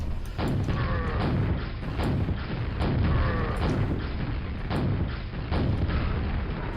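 Rocket launcher explosions in Quake: Scourge of Armagon, a series of heavy, booming blasts about once a second, loud and close, each with a crackling tail, repeating steadily throughout with no voices.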